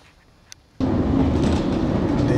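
After a brief near-silent moment with a single click, a train heading toward Shibuya suddenly roars in, a loud, steady rumble of wheels and carriage noise that continues to the end.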